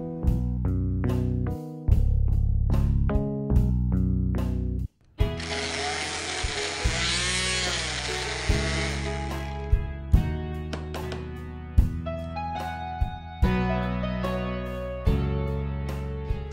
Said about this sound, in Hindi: अब हम इसमें बर्फ डालकर एक बार फिर से अच्छे से ब्लेंड कर लेंगे